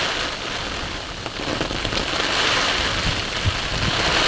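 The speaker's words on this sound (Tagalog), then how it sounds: "At nakakatakot po ang ulan, napakalakas." Heavy rain pours steadily near a river, a loud dense hiss of drops on surfaces with scattered sharper splats, continuous throughout.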